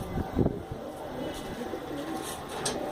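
Long-tailed pigeons in Kolkata under cloudy skies give a few soft, low coos, the clearest burst near the start, over a faint steady background hum.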